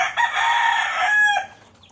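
A single rooster crow rings out loud and close, one sustained call lasting about a second and a half before fading.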